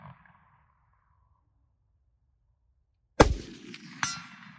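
A rifle bullet strikes a hanging steel target at long range: after a quiet stretch comes one sharp metallic clang with a ringing decay, then a second fainter ring about a second later.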